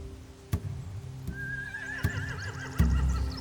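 Horses in the video game The Walking Dead by Telltale whinny with a rising, wavering cry over low rumbling and a few sharp thuds, plus some hoof clatter in the background.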